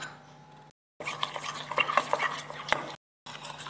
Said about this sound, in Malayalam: ഇനി ഇതിലോട്ട് പൗഡർ ഷുഗർ 1 സ്പൂൺ ആഡ് ചെയ്ത് ഒന്ന് മിക്സ് ചെയ്യാം